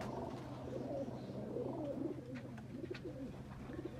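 Baby high-flying pigeons cooing softly in a loft, a faint continuous murmur of overlapping low coos and rustles.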